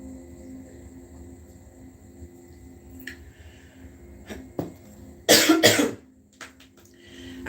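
A person coughs hard, with a short burst of harsh, loud coughs close to the microphone after a quieter stretch with a faint throat sound.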